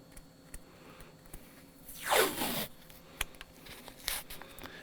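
A strip of blue painter's tape is pulled off its roll with a short rising rip lasting about half a second, faint and close, amid quiet small handling clicks.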